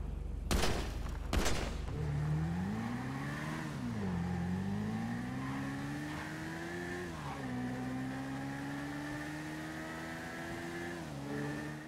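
A car engine in a video game revs and accelerates, its pitch rising and falling in smooth sweeps before settling into a steady drone, after two sharp bangs at the start.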